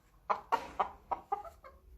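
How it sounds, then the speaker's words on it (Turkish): A hen in a backyard coop gives about six short, sharp clucks in quick succession, close and clear over a quiet background. "Bakın tavuğumuz."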